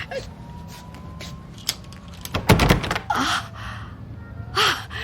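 Door chain and lock being checked in a radio drama: a few sharp metallic clicks and rattles, with a louder clustered clatter midway, over a quiet room tone.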